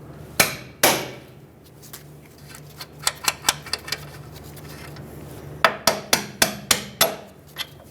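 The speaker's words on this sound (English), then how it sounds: "use a hammer, tap the bolt through." Sharp metallic hammer taps ring out in quick bursts as a bolt is tapped through a front strut on a Hyundai Accent, a couple of single blows and then rapid runs of strikes, close and clear.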